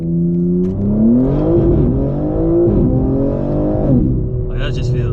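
A 750 HP BMW G82 M4 Competition accelerates hard in first gear, its engine note climbing loudly and steadily toward a high rev peak, heard close from inside the car.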